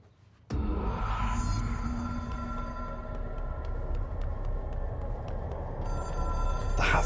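Telephone ringing in the video game Control, a steady electronic bell tone that starts abruptly and keeps sounding over a low humming room ambience in a black pyramid room, fairly faint and with no talking.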